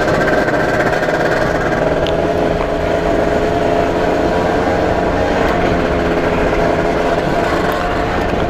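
An Explorer mobility scooter pulls away for an outdoor ride, giving a steady, fairly loud electric motor drone with a constant hum and wind or road noise throughout.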